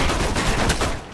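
Dense, rapid gunfire from a weapon in the video game Alpha Protocol, a continuous burst of shots filling the whole moment at close range with no talking.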